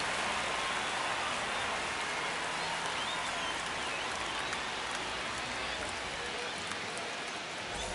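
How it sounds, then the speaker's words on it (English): A stadium crowd in MLB The Show 25 sends up a dense, steady roar of cheering and applause that stays loud and constant throughout, with voices faintly audible underneath. "The crowd is amped up, ready to get this season underway"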